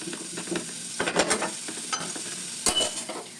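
Cabbage and mixed vegetables stir-fry in a little oil for veg fried rice, with close, uneven scraping stirs over a soft sizzle.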